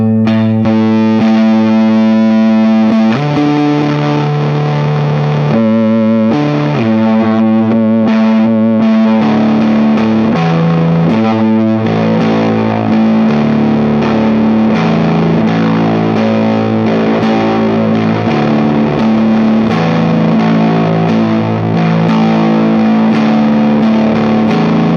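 A Boss DF-2 Super Feedbacker and Distortion pedal with a Keeley mod drives an electric guitar into loud, dense, saturated noise, with held feedback-laden notes and chord changes in a continuous wall of sound, close and without talk.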